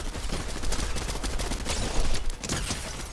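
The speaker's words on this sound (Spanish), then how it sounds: "Qué buenos tiros." Rapid gunfire crackles through a shooting game as overlapping shots form a dense, continuous fusillade at close range, with bursts layered on a noisy battle backdrop and no one talking.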